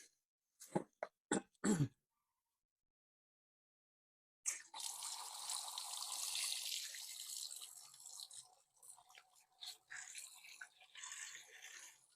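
Spearmint leaves are rinsed under a kitchen tap, a faint splashing water stream with uneven swishes following a few sharp knocks and a pause of silence.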